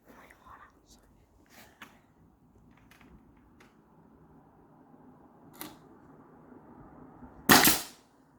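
A framing nail gun fires one nail into a wooden archery target stand, making a single sharp, loud pop near the end. Before it come a few faint clicks and soft handling noises.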